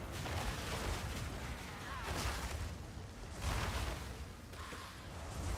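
Repeated explosions and bursts of spell effects rumble continuously through Path of Exile 2 gameplay on a Delirium map, dense and layered with a few louder blasts standing out.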